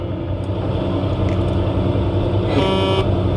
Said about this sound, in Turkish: Kornamız yine aynı.